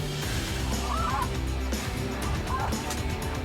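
Snow geese flying over a spring goose hunt in Québec, their honking and calling cries rising in scattered bursts over a steady, dense outdoor background, with people talking throughout.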